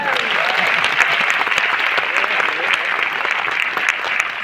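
A large training crowd in Delhi claps in sustained, dense applause, loud and even from start to finish, with a few voices mixed into the clapping.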